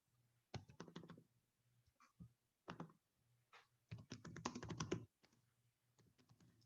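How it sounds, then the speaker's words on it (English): Bursts of rapid clicky keystrokes on a computer keyboard, close up, with short pauses between flurries and a faint low hum underneath. "My typing is atrocious"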